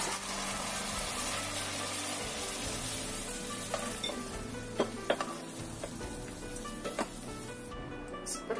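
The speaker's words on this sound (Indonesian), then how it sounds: "kemudian kita aduk." Tofu and mushrooms frying in a pan for a Chinese-style stir-fry, with a steady close sizzle throughout and several sharp clinks and scrapes of a utensil stirring them partway through.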